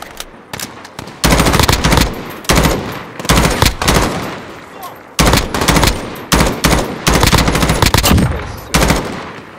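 Automatic weapon fire in Call of Duty: Modern Warfare Warzone, a Special Ops Pitch Black mode, loud close bursts of rapid shots with brief gaps between sprays, heard alone without talk.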